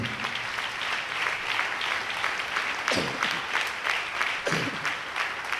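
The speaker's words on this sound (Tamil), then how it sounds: "ஆண்டவருக்கு நல்ல ஒரு கைத்தட்டு கொடுங்க." Congregation applauding during a Tamil church sermon, a dense, sustained burst of clapping from a large crowd that stays loud and even throughout.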